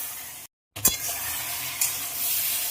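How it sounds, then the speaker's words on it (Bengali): A mustard and green chilli paste is lightly fried for an ilish fish curry with taro and chickpeas, and it sizzles steadily. A brief gap is followed by a sharp clink, then the sizzle continues close by with some stirring scrapes. "সর্ষে দিয়ে হালকা করে একটু ভেজে নিলাম।"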